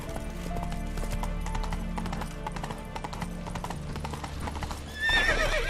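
A horse in The Witcher 3 video game clip-clops in a steady rhythm over a low ambient drone, then gives a loud whinnying neigh near the end.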